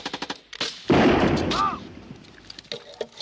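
Small-arms gunfire in a forest ambush: rapid close shots crack in a burst, then a heavy blast rumbles and fades, with a whistling ricochet and scattered later shots, all loud and sharp.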